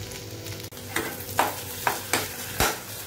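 Frankie filling being stirred in a hot pan with tomato sauce and schezwan chutney, a steady sizzle broken by several distinct scraping strokes of the spoon against the pan.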